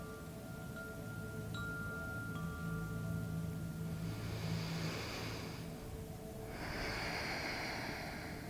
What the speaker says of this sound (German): Fanian hört noch das langsame, gleichmäßige Schnaufen der schlafenden Suavis